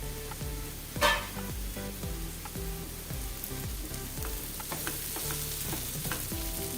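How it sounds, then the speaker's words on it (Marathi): A spatula scrapes repeatedly through roughly mashed boiled potatoes and softened onion in a hot pan, making steady, rhythmic close strokes over a soft frying sizzle, with no voices. "थोडंसं ते ढवळून घेऊया."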